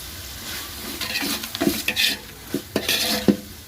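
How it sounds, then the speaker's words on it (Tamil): Garlic paste and a ground cinnamon-clove mix being sautéed for village-style mutton biryani, with steady frying sizzle and repeated scraping stirs of a spoon in the pan, no voices. "பட்டை லவங்கத்தையும் அரைச்சி வச்ச மிக்ஸ் அதில் போட்டு அதையும் சேர்த்து வதக்கணும்."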